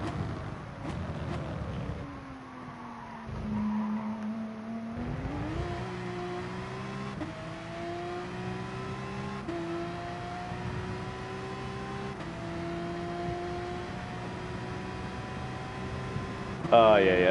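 A Lamborghini GR3 race car engine in Gran Turismo Sport rises through the gears in a series of climbing whines, each upshift dropping the pitch before it climbs again, with speech from players over it.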